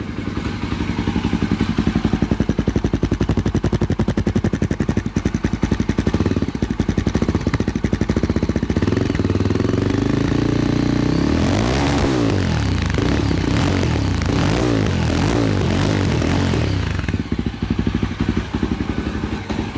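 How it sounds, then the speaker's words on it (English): A Yezdi Adventure motorcycle exhaust rumbles loud and close at a steady idle, then revs up in several sharp bursts before settling back. "you guys will get to hear the nearest possible exhaust rhythm"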